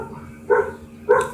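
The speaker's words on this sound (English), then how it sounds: "Dogs, they always bark when there's someone outside." A dog barks twice at someone outside, two short, fairly close woofs about half a second apart over a low indoor hum.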